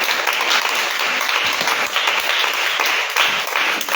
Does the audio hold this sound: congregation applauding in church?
yes